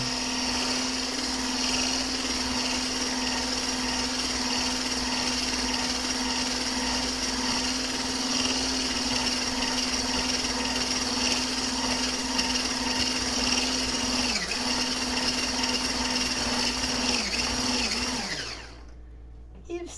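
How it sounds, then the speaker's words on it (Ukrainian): An electric hand mixer whirs steadily and loudly while beating batter for an apricot pie, a continuous motor drone that winds down and stops at the end. "переб'ємо нашим міксером"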